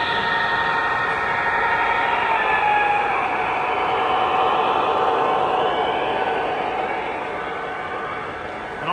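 O scale model trains running on a super-elevated layout at a hobby club show, giving a loud, steady whirring rumble with shifting tonal whines throughout, then easing slightly toward the end.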